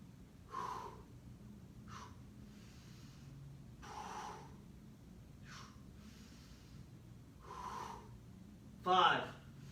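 Breathing during an exercise session, a series of soft, close inhales and exhales spaced a couple of seconds apart over a quiet background, ending in one louder breath.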